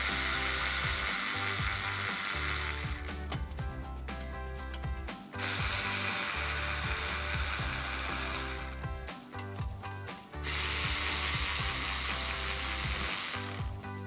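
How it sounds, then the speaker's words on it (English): Ratchet turning out the belly pan bolts on a 2005-2009 Mustang: close, loud rapid clicking in long bursts with brief pauses between bolts. "I'm going to pull the 3 bolts at the back of the belly pan so that I can remove everything all at once."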